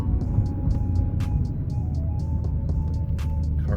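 A Chrysler 300C SRT Design running with no power steering gives a steady low rumble and hum from inside the cabin, with faint intermittent clicks and ticks over the drone.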